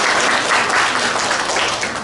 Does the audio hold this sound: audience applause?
yes